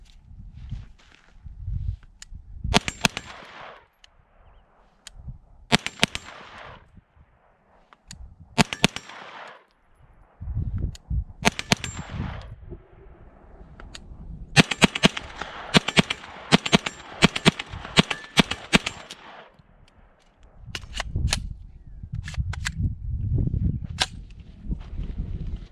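An Aero Precision pistol caliber carbine fires in quick strings of sharp, loud shots at an outdoor range, the bursts separated by pauses, shuffling and movement, with a few brief breaks in the firing.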